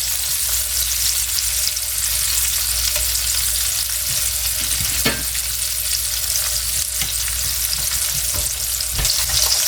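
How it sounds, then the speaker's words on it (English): Pre-seasoned salmon fillets frying in a pan, a loud, constant, close sizzle with a few faint scrapes and clicks scattered through it, and no voices. "So, first time ever cooking salmon."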